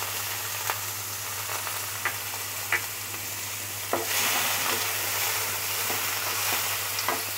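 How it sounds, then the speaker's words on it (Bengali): Chopped onions frying in hot oil, a steady loud sizzle with occasional sharp crackles and pops, heard up close and alone without any talk. "দিয়ে তেলটা একটু গরম হয়েছে, এখন আমি পেঁয়াজ কুচনোটা দিয়ে দেব।"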